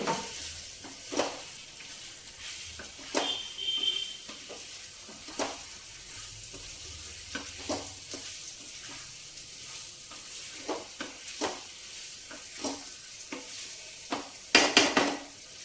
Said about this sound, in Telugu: ఇప్పుడు మనం ఈ మటన్ వేసేస్తున్నాం.